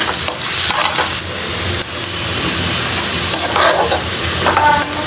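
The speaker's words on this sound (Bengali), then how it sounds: "পেঁয়াজটা ব্রাউন কালার হতে থাকুক।" Onions fry in hot oil in a pan while they brown for a beef jhura dish: a loud, continuous sizzle with scraping stir strokes and brief hissing surges, close up.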